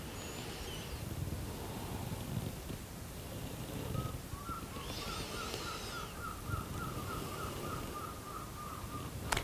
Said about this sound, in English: You might hear the seagulls in the background.